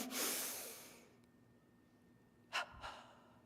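One long, deep breath drawn in through the nose, followed after a pause by two quick, sharp sniffs, close and quiet.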